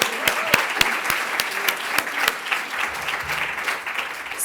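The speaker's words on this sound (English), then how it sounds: "which deserves another round of applause." An audience at a 2016 women-in-leadership development event gives a round of applause, with crisp individual claps standing out over a steady wash of clapping throughout.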